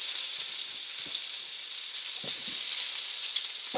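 A pork chop sizzles steadily in a hot pan, a soft continuous frying hiss with a few faint crackles, heard alone at low volume.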